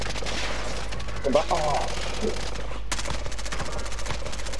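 In Call of Duty: Modern Warfare, automatic fire rattles from behind in rapid bursts, a continuous crackle of shots that sharpens into dense volleys midway, while a player briefly shouts over it.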